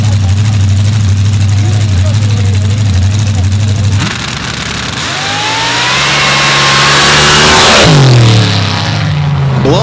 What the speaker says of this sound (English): Blowing the tires off there on the starting line